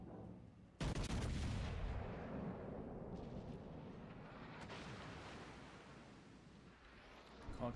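A Conqueror battleship fires an AP salvo in World of Warships Legends: one sudden, heavy boom followed by a long, rolling rumble over sea and wind noise, then another faint thud near the end.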